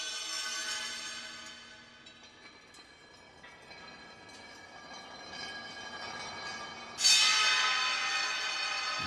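Bowed and struck metallic bell tones from the Project Sam Lumina sample library, dense shimmering sustained partials that slowly fade, then a bright, louder metallic swell near the end, heard alone.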